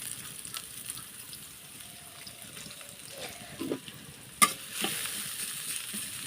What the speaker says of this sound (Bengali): দেখেন কড়াইতে আমি তেল দিয়েছি, এখানে আমি পেঁয়াজ কুচি দিয়ে দিলাম।